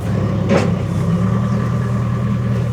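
Low rumbling engine noise of road re-graveling machinery idling and working nearby, steady and droning, with a brief scraping burst early on.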